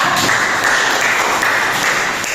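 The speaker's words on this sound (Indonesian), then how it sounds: "tepuk tangan dulu untuk kelompok 3" Group applause at a training session, a dense steady clatter of clapping from a room of trainees that fills the whole clip at even loudness, with no talk over it.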